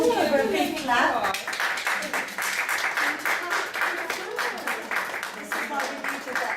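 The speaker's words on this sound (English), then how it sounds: "So if we can give her a big clap." An audience claps for a woman being presented with flowers at a dementia science talk, a dense, steady wash of many hands lasting several seconds, loud and close, with a few voices underneath.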